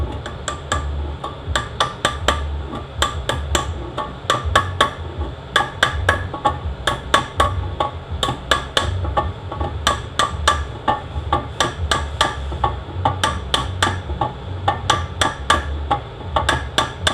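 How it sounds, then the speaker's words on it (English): Hammer tapping a bearing down onto a shaft during a 42RLE transmission rebuild, a steady run of sharp metallic taps in quick irregular bursts, close and fairly loud throughout with no talking. "I just give it a little tap till I get down enough to get the nut on it"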